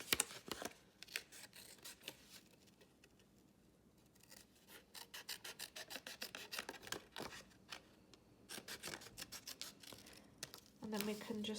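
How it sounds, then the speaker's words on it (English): Scissors snipping along a drawn line on a festive flag craft, quick repeated close cuts in bursts with short pauses between runs. "then just cut along that line, maybe just on the inside of it."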